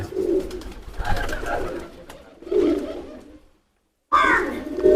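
A Dabwala pigeon coos in low, throaty bursts close by, with two or three rolling calls separated by a brief silent pause before another starts.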